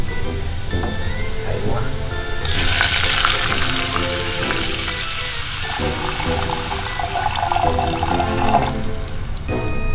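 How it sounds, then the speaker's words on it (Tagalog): Water poured into a cooking pan while making sauce for boiled ribs, a broad splashing pour starting partway in over background kitchen noise, with a person speaking briefly. "Tapos maglagay tayo ng tubig."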